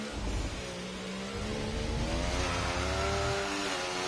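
Formula 1 race car in a video game revving hard as its rear wheels spin and drag under power, a rising, wavering engine whine over a rushing, tire-scrubbing roar.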